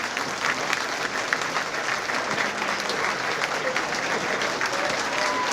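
A school audience claps for its top 100 students at a Santa Ana high school ceremony, a steady, moderately distant patter of many hands that continues without a break.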